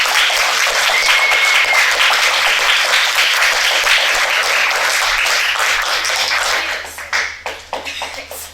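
Audience applause, sustained dense clapping from a crowd for several seconds before thinning out into a few scattered final claps.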